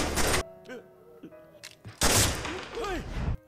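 Gunfire in a film scene: a loud burst of shots opens, then quieter thuds and strained vocal sounds, followed by a second heavy blast with ringing, echoing tails.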